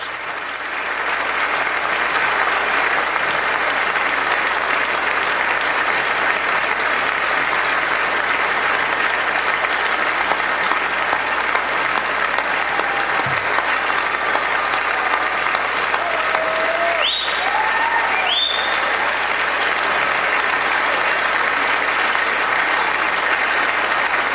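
Audience at a State of the Union address applauding an elderly World War II veteran receiving a medal, a long, dense and steady roar of clapping from a large hall with faint voices underneath.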